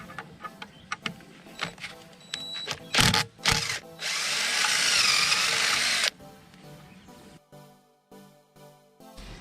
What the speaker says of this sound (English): start getting the screws out of here